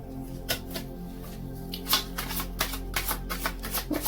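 Chakra wisdom oracle cards being shuffled by hand: soft, rapid papery riffles and taps in an uneven rhythm, close and fairly quiet over a steady low hum, no talk.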